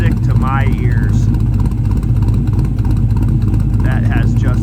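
A 1972 Chevy C10 restomod long-bed truck with an LS1 V8 and automatic transmission runs steadily, its deep exhaust note droning loud and close throughout, with someone talking over it.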